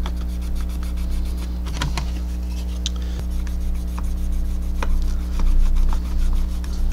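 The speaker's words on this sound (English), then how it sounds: "I usually like to use a cotton t-shirt or something for my burnishing of bare metal foil" A cotton cloth rubs to burnish bare metal foil on a model car body, making continuous close, scratchy rubbing strokes in a steady back-and-forth rhythm over a constant low electrical hum.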